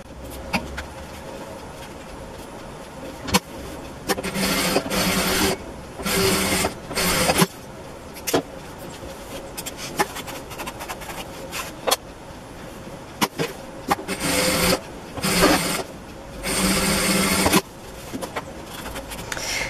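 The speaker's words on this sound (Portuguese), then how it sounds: "costuro o pé de máquina aqui e abro" A sewing machine stitches fabric for a bread basket in several short bursts of fast whirring, each lasting a second or two, with pauses and small clicks in between, close and loud.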